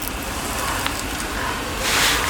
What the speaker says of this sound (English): It's a nice gentle flow, but it delivers plenty of water.